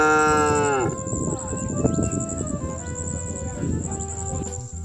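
A single loud, drawn-out cow moo opens the sound, followed by busier low rumbling and clattering noise in the background.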